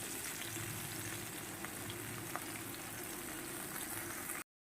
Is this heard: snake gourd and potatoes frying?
yes